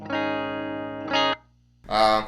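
Clean electric guitar tone from an Epiphone Les Paul Studio, a few sustained notes and chords ringing out, with a short quieter gap before a brighter final strum.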